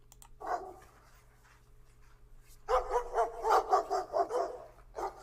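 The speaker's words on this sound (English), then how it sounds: "This dog owner on a regular basis lets her dogs out." Dogs let outside by their owner bark in a short burst, fall quiet, then break into a rapid run of loud, repeated barks at a moderate distance, with no talking.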